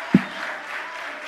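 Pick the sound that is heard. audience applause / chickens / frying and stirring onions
audience applause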